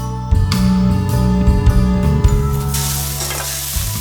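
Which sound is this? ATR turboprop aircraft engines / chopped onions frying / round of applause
chopped onions frying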